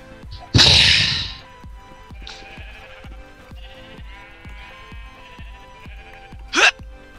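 A Minecraft sheep lets out a loud, close bleat as it is struck, followed by a softer bleat and a short sharp hit sound later, over a steady ticking background beat.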